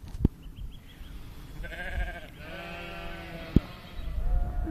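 Sheep and little lambs bleating up close, two or three drawn-out wavering bleats with sharp knocks and rustling around them.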